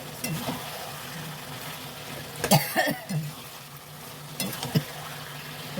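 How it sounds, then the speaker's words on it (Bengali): A person with a cold coughs several times in a short burst, a couple of loud hacking coughs in the middle and another pair near the end, over a low background hiss from a kitchen. "ঠান্ডা লেগে যেমন কাশি হচ্ছে"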